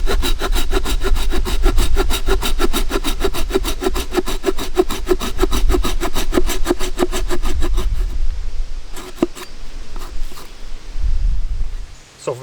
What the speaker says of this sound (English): I'm going to take my saw, I'm going to cut down anywhere from 1/3 to halfway into that log.